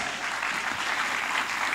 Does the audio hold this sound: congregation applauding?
yes